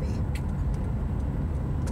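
Road traffic around a car driving past Vanderbilt, heard as a steady rumble of engines and tyres with faint passing hisses, continuous and fairly close.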